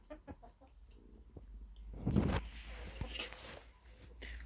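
Chickens cluck softly in short bursts, with a louder flurry of clucking midway, fairly quiet against a low background hum.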